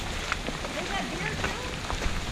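Rain falls at an outdoor chili gathering and hammock hang in Michigan, a dense soft patter of drops with scattered sharper taps, steady and close, with faint voices mixed in.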